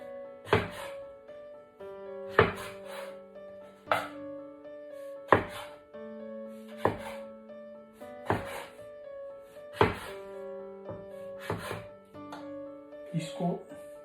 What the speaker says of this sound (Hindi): अब इसके छोटे छोटे टुकड़े कर लेंगे ऐसे।